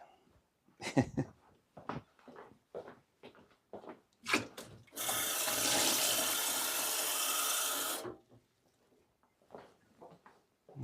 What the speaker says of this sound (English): get my glass of water filled